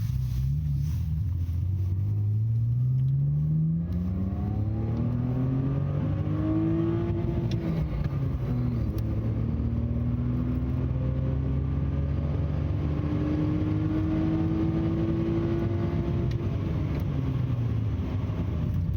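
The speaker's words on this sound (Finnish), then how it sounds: "Ajetaan vaikka 1 ja 2. Rajoitinta vasten." A BMW E46 engine revs hard through 1st and 2nd gear, climbing in pitch and bouncing against the rev limiter, loud and continuous from a close in-car position with no talk.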